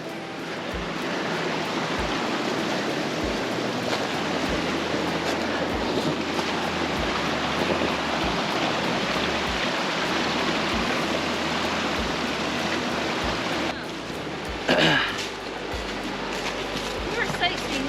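A forest waterfall along the Laurel Run hiking trail roars as a steady, broadband rush throughout, fairly close, with brief voices and footsteps near the end.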